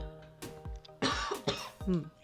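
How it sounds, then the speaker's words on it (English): Three or four close, moderately loud coughs in a row from someone working at a desk laying out a planner, with faint background hum and no talking. "So sorry about the cough."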